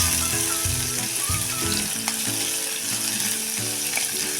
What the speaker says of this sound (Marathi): त्यामध्ये टाकूया हा मोठा मोठा कांदा थोडासा मऊसर होईपर्यंत हा कांदा आपण परतून घ्यायचा आहे